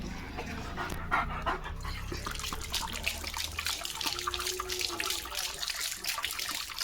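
Up close, a German Shepherd laps water steadily while panting throughout, with a continuous wet, rhythmic sound and no talk over it.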